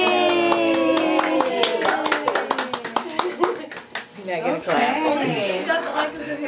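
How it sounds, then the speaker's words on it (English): Family members clapping hands at a child's first birthday, a quick run of sharp, close claps in an irregular rhythm mixed with cheering voices and a child's chatter. "Daddy, we need to clap, Joey."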